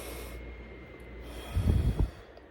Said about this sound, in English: Again, breathe in.